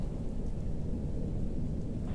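A thunderstorm in a horror video game: a low, continuous rumble of thunder with rain hiss, steady and fairly close for a couple of seconds, no voices.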